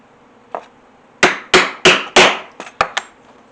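A hammer strikes a metal rivet setter on an anvil to set leather suspender hardware, one light tap, then a run of five heavy ringing blows and a couple of lighter ones, close and loud with no talk.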